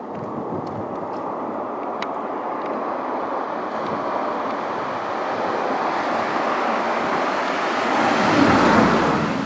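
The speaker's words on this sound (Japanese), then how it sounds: "車の音だったよ。" A car passes near a road tunnel, a steady broadband rumble that swells gradually as it comes closer and peaks near the end. No voices are heard.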